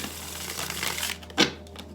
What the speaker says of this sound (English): One shuffle for good luck.